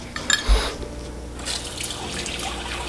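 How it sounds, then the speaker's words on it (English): Water pours and splashes briefly into whole wheat bread dough with a soft thud near the start, then a quieter trickle and faint handling noises. "I'm just going to add a tiny bit more water."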